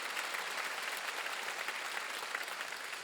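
A church congregation at a Korean Wednesday worship service applauds, a steady, moderately distant wash of clapping that holds evenly without talk over it.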